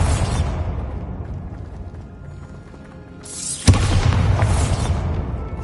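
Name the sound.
Bombarda explosion spell in a video game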